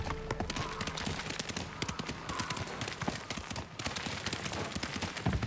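In the video game Ghost of Tsushima, a horse gallops with rapid, rhythmic hoofbeats that run steadily and fairly close, with faint background ambience and brief bursts of action noise.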